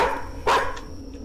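A single sharp bark from a nearby dog rings out loud and clear, followed by a faint softer yip over a low background hum.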